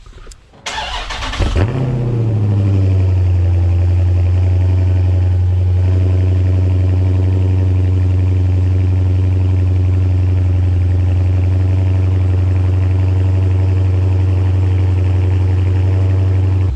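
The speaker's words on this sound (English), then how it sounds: "let's go ahead and do a cold start" Dodge Challenger engine cold starting with a sharp crank and roar, then settling into a loud, deep, steady idle that rumbles evenly for the rest of the clip.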